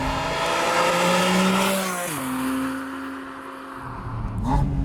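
A Porsche 718 Spyder RS exhaust, with its GT3 engine, howls loudly and continuously, its pitch sliding down as it shifts, then climbing again.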